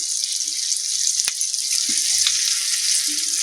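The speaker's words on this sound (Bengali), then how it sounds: "আঁচটাকে মিডিয়ামে রেখে ম্যারিনেট করা মাছটাকে এখন আমি দিয়ে দেবো।" Marinated rui fish goes into a pan over medium heat with capsicum and tomato, setting off a loud, hissing sizzle that stays constant, with a sharp clack and faint stirring knocks beneath, no voices.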